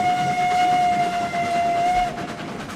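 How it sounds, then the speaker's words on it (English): A narrow gauge train in the game RailRoads Online rumbles along with its whistle sounding a long, steady tone that cuts off after a couple of seconds, leaving the rolling clatter of the train behind. "Scenic little venture with our little narrow gauge train there"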